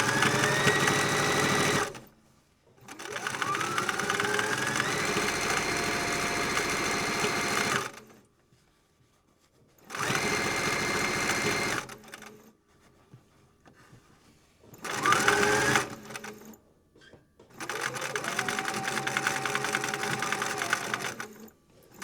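A sewing machine running in bursts, each a few seconds of fast, even mechanical whirring and stitching separated by short pauses, close and clear with no talk.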